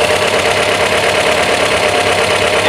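Volvo 544 engine idling with SU carburetors being adjusted, a loud, steady, close-up drone with a fine rapid pulsing texture and no speech.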